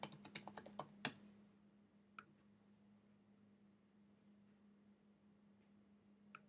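Quick burst of keystrokes on a computer keyboard as a search is typed, about a dozen close, crisp clicks in the first second, then a couple of isolated taps over a steady low hum.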